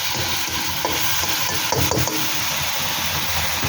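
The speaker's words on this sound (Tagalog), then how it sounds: "Saute lang natin muna ito." Shiitake mushrooms sautéing in a pan give a steady, loud sizzle with occasional scraping stirs and clinks of a utensil, close and continuous with no talk.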